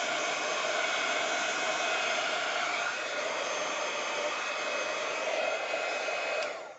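A heat tool blows a steady, loud hiss-like roar while heat-setting stamped ink on a handmade Christmas card, continuous for several seconds before cutting off at the end.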